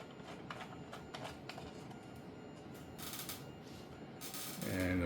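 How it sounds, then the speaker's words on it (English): A 3D printer runs in the background of a hobby workshop, giving off faint mechanical whirring and a rapid ratcheting tick, with a few brief louder bursts of motor noise toward the end. "you can hear the 3D printer in the background"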